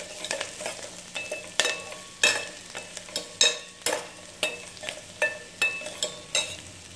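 Chili and onion fry in a pan while a utensil stirs them, giving a steady soft sizzle under regular scraping clicks of the spoon against the pan, about two strokes per second, close up and without talk.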